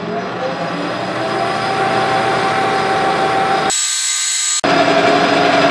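A lathe takes a light skim cut in metal with a 5/8 solid carbide boring bar while building a Hemingway kit spherical ball turner, giving a steady, loud machining whine with tonal lines and a brief abrupt change near the end.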